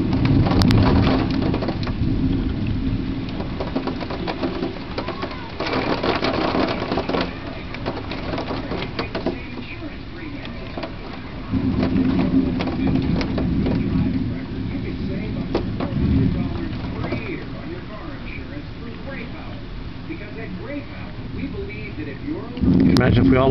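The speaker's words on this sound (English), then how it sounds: "all of a sudden the storm was just on top of us." A thunderstorm with steady heavy rain hissing and rumbling thunder swelling at times, heard from indoors by a window, with someone talking over it.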